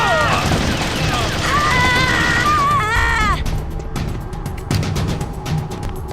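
Gunfire in Metal Gear Solid: The Twin Snakes on GameCube. Voiced game dialogue comes first, then a burst of sharp, rapid shots rings out in quick succession.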